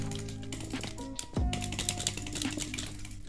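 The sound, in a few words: gaming keyboard keys being pressed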